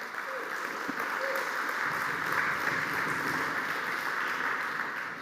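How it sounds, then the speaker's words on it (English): A conference audience at a youth opening ceremony applauds steadily, a dense even wash of many hands clapping that holds for several seconds at moderate loudness, with a faint voice briefly underneath. "Clap your hands."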